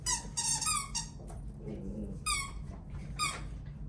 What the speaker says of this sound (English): I know you probably hear the toy squeaking